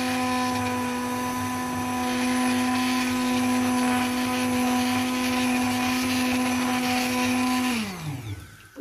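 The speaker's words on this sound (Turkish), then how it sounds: "Bir kere de bununla vuracağım bu robota." A food processor running on parsley, a loud steady motor whine with strong harmonics held for nearly eight seconds, then spinning down quickly before a final clunk.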